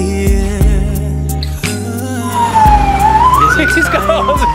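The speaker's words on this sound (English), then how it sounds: "he's got all the sirens" An emergency vehicle siren wails in a rising and falling sweep, loud and close, during a Christmas tractor parade of lights in Carrick-on-Suir, Ireland, after sustained tonal horn or music blasts, with voices in the background.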